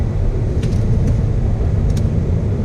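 Cabin of a 2019 Mazda 6 under braking with a downshift into second gear, a steady low engine and road rumble with a few faint clicks, no speech.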